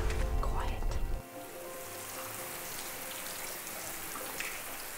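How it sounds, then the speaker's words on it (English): Ice cracking and shifting beneath the Antarctic sea surface, heard by hydrophone at about 20 meters depth, with trapped air escaping as a steady crackling, fizzing hiss after a brief burst of loud low rumble at the start. "The ice is kind of cracking and shifting, and any air that's trapped inside, it just releases and you can hear it."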